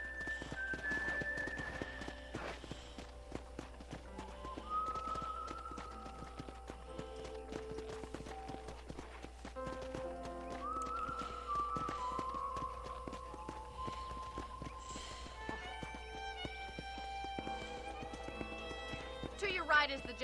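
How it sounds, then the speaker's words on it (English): Horse hooves clip-clop steadily in Red Dead Redemption, a western video game, as a rider trots along a ranch road; rhythmic, moderately close hoofbeats run throughout under game music tones and a character's talk. "let's see if you can still ride a horse."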